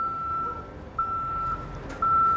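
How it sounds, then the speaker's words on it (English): A semi tractor backs up to slide a drop-deck trailer's axle forward, its reversing alarm giving three or four evenly spaced high beeps over a low idling engine rumble. "just release the tractor brakes, and then back up to slide this axle forward"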